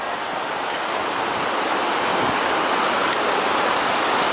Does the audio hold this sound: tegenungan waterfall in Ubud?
yes